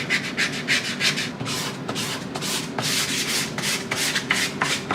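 Wood being sanded smooth by hand, likely in a woodworking workshop: close, brisk rubbing strokes of abrasive on the surface, repeating in an uneven back-and-forth rhythm throughout.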